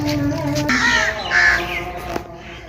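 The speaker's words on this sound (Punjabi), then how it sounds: "ਪਰਿੰਦੇ ਦੀ ਆਵਾਜ਼" Crows caw repeatedly around a shrine, several harsh calls in quick succession at moderate distance, with other birds faintly in the background and no speech.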